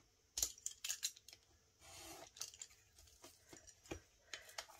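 Scissors cut paper for a handmade scrapbooking baby album, giving a close series of crisp snips and rustles that run steadily for a few seconds with no one speaking.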